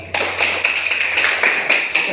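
Children clapping their hands together in a classroom at an Indonesian elementary school, a steady rhythmic burst of claps close by, with a voice faintly present.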